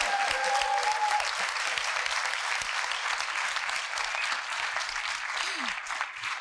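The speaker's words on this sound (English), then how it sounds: "Big round of applause." Audience applause at a closing conference session, a broad, steady wash of clapping heard at moderate distance and slowly tapering, with a faint tonal hum in the room.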